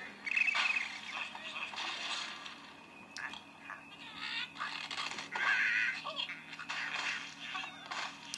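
Angry Birds game sounds play on a Motorola Milestone 2 phone: a steady run of chirpy, cartoonish bird squawks and tweets with scattered impact bursts, at moderate level with no talking.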